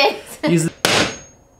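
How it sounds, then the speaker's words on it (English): A hammer strikes a glass door panel during a DIY garage conversion, cutting a cat door: a sharp loud crack and shattering burst that rings and fades, following a short spoken word and a thud. "I'm gonna hit it with a hammer and make my own cat door."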